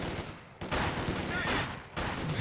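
Machine gun fire in a real-time strategy game match, with dense bursts of gunfire and battle noise running throughout and two brief dips between sustained loud stretches.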